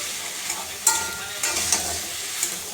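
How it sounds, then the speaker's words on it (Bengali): Vegetables with onion and chilli stir-fried in a pan for a ridge gourd and potato fish curry, giving a steady close sizzle with occasional scraping stirs and small pops, no talking. "এবারে আমি সবজি একটু ভালো করে কষিয়ে নেব।"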